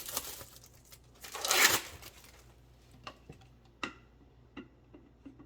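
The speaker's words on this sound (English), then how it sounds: "So when you go to do this, you just unwrap it." Plastic wrapping torn and crinkled off a CT resin filter cartridge for a Sentry Filtration Wellness System; one loud rustling burst midway, followed by a few sharp clicks and taps close by.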